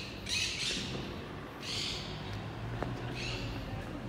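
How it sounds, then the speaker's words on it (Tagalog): Several birds squawk in loud bursts, three clusters of harsh calls rising over a steady low background hum, fairly close by. "Daming ibon."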